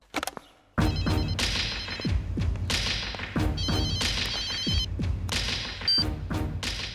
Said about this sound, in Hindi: सुनो बेटा, जरा ठाकुर साहब को फोन लगाओ।